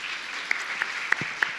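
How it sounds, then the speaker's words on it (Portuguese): Audience at a longevity talk applauding, a brief continuous wash of clapping with a few sharp, louder individual claps standing out close by. "Uma salva de palmas para todos vocês."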